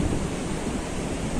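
Sea waves breaking on the clean, empty shore of Rel beach, a small coastal village near Ganpatipule, make a steady, broad surf roar that holds at an even level for the whole moment with no voices.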